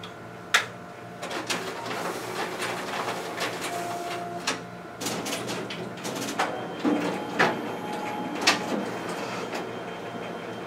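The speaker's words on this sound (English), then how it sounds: "we'll go ahead and do a double staple for testing purposes" A Xerox WorkCentre 7545 copier pulls two test pages through its document feeder and double-staples them, making a steady mechanical whir with repeated rattles and sharp clunks, close and alone.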